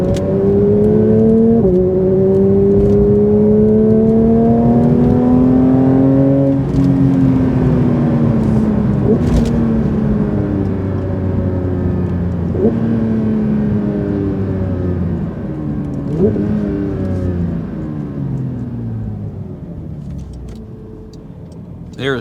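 A Porsche 911 GT3 with its naturally aspirated engine accelerates hard through several gears, loud rising engine tones repeatedly climbing, dropping at each shift, then easing off, heard from the cabin.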